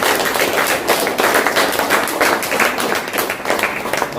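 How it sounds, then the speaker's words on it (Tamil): Loud, close applause from an audience honouring a speaker, many hands clapping in a dense, steady stream with sharp individual claps standing out throughout. "ரூபி மேம் ஒரு நல்ல கைத்தட்டி கொடுத்துடலாம்."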